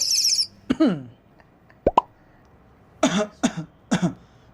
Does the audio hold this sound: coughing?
yes